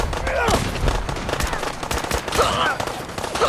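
Bursts of gunfire in the video game Fallout 4 crackle through a busy firefight, with overlapping shots and rattling volleys mixed with other game sounds and faint voices underneath.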